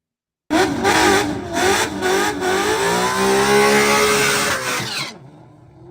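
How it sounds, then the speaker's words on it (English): A race car engine revs hard through a drag racing pass, loud and close, with a sustained roar whose pitch sweeps as it accelerates and shifts before cutting off abruptly near the end; no talking. "That's Hanlon's car right there."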